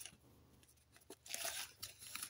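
Close rustling and crinkling of paper sheets being handled and pulled out, with quiet, irregular crackles that swell into louder bursts.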